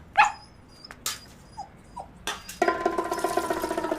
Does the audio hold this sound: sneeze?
no